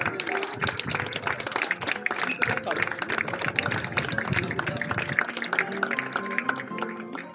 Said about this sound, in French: on va faire la photo avec les applaudissements du public